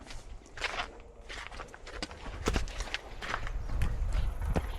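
Hooves of a black colt walking under a rider, uneven soft thuds and clip-clop steps on the ground, fairly quiet and close, with faint outdoor noise.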